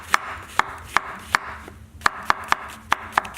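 A knife slices through fresh mushrooms and spinach on a cutting board with about a dozen crisp, close strikes at a fairly even pace, each a sharp tap standing out over a quiet background.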